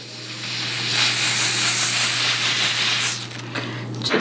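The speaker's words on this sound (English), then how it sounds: "So we're gonna do a second spray." A second coat of adhesive spray hisses in one long, steady, close burst during a blonde curly wig install, then cuts off, leaving a few soft rubbing noises.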